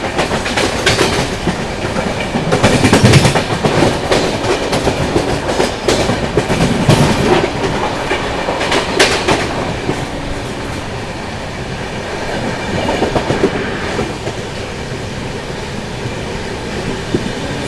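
A passenger train on the New Delhi to Darbhanga Bihar Sampark Kranti run passes through Khalilabad station at speed, loud rushing wheel roar with rhythmic clickety-clack bursts heard from onboard, no talk.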